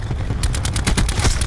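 Rapid bursts of automatic gunfire from a video game match, about a dozen sharp shots in quick succession over a low rumbling game soundtrack, loud and close.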